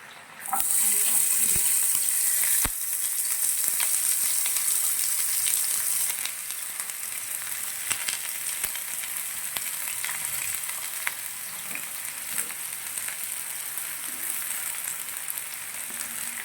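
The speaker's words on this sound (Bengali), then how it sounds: "কেটে রাখা পেঁয়াজ, রসুন, আদা, টমেটো এগুলোকে আমরা হালকা আঁচে ভেজে নেব" Chopped onion, garlic, ginger and tomato fry over low heat for a chicken gravy, giving a steady, close, hissing sizzle that continues throughout, with a few faint clicks of stirring and no talk.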